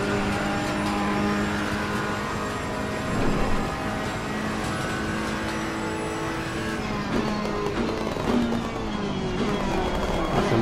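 A Ferrari 488 GT3 race car at the Imola circuit in Assetto Corsa Competizione, its engine droning steadily with shifting pitch as it accelerates and eases off, sustained and fairly quiet.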